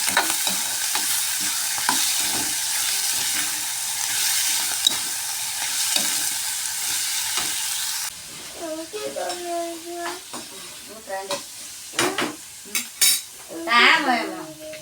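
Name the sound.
stirring and frying food in a pan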